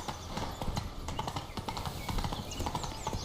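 Roach, a horse in The Witcher 3, gallops with rapid, rhythmic clip-clop hoofbeats that carry evenly and close for a few seconds, unbroken by voices.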